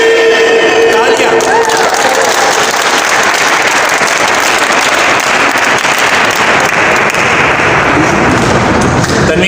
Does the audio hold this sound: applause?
yes